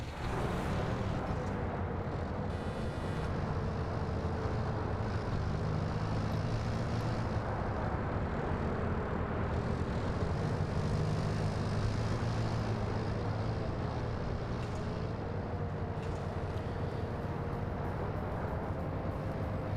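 Aircraft engine in an Arma PvP match between CDF and Russian forces, a steady droning roar with a low rumble that holds at an even level throughout, alone without voices.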